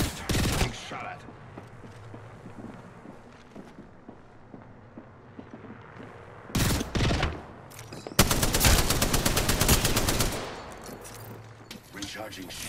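Rapid gunfire from an Apex Legends match, with bursts of automatic weapon fire and a sustained loud volley, close and harsh, broken by quieter gaps carrying game sounds and a voice.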